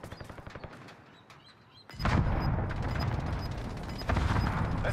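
Dense, continuous automatic gunfire rattles in Call of Duty Warzone on Rebirth Island, starting with lighter scattered shots and then swelling into a loud, sustained barrage of overlapping weapons.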